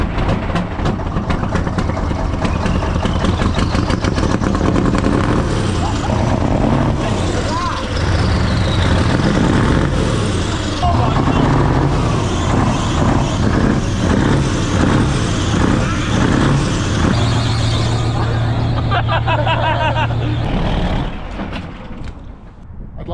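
A Volvo V8 truck engine runs steadily up close, a loud continuous rumble for about twenty seconds before it drops away, with voices talking over it.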